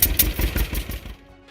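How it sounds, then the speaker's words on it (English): Exhaust of a John Deere Model A two-cylinder farm tractor engine, a loud, close run of about six heavy, evenly spaced pops over roughly one second, ending abruptly with a faint hum afterward. "John Deere's hit-and-miss style 2-cylinder engine produced a memorable exhaust note"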